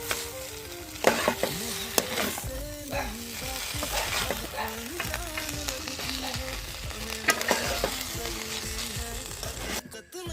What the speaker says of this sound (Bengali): ভালো করে আমি নেড়ে দেবো